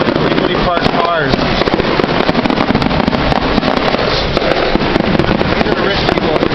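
Fireworks and firecrackers at an illegal July 4th neighborhood show in Dunedin crackle and bang nonstop, close and loud, with rapid pops layered over each other while someone talks beneath the din.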